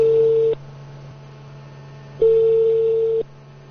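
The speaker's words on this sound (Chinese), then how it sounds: "您拨打的用户正在通话中，请稍后再拨。" A telephone line gives a busy signal: two steady single-pitch beeps about a second long separated by a pause, loud and clear over a faint low mains hum, with no voices.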